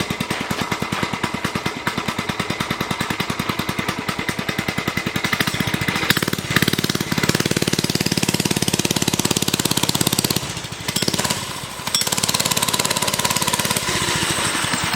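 A Motovox mini bike's small single-cylinder engine runs during a test ride, a loud rapid putter that holds steady, then revs up and drops briefly before picking up again, close and alone.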